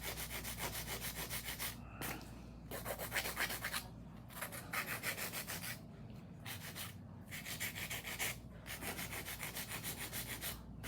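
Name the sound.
hand filing acrylic stiletto nail tip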